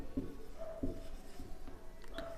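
Chalk or marker writing on a board during a math lecture on special functions, faint scratchy strokes in short bursts against a steady room hum, with no speech.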